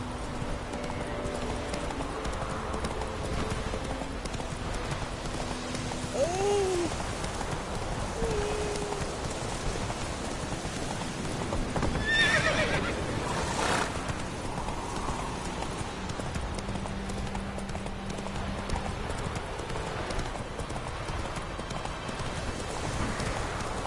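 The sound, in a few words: Witcher 3 horse Roach galloping, video game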